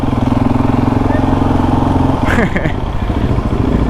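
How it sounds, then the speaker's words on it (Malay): A Royal Enfield Classic motorcycle engine thumps at a steady idle close by, with a brief voice and clatter breaking in partway through. "Comel motor klasik Royal Enfield ni."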